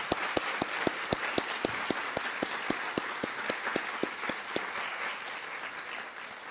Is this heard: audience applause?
yes